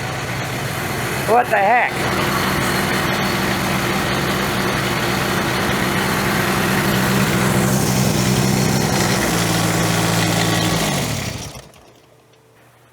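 Ventrac 4500Y tractor engine, neglected and bought at auction, running loud and close as it is throttled up, then cutting off near the end; a voice briefly speaks early on over the engine noise.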